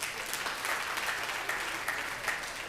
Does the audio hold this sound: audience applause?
yes